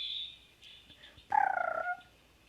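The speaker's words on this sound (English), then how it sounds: "Loud birds." At a birdfeeder, a loud, rapid bird call bursts out briefly, a warbling gobble-like cry, after a quieter thin whistle; no speech.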